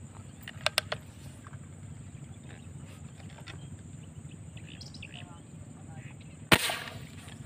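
A single sharp crack of an airgun shot rings out near the end during night fishing, over steady low engine hum, with a few faint clicks earlier.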